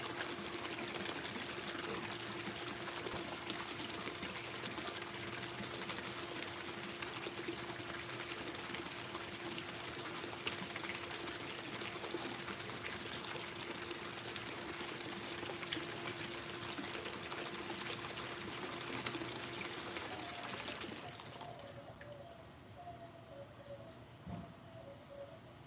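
A backyard pool pump runs with water pouring and splashing, a steady broad rushing hiss with a constant hum. Both cut off abruptly about 21 seconds in, leaving quieter ambience.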